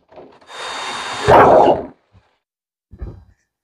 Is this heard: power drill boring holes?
yes